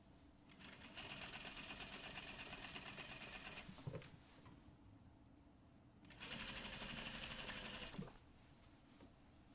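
Sewing machine stitching a neckline in two bursts of rapid, even mechanical chatter, a few seconds each, with a quiet pause between, close and fairly soft.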